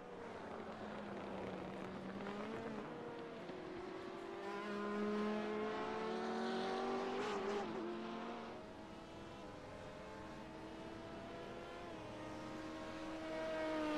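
Sportscars racing at Silverstone in a racing video game, several engines whining and rising in pitch as they pass, a steady roar that swells mid-clip and then eases as the cars exit a corner, with no voice over it.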